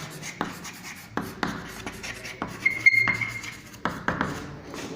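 Chalk or marker writing on a classroom board during a lesson: a series of short, scratchy strokes and taps in irregular bursts, close and fairly loud, with brief pauses between words and no talking.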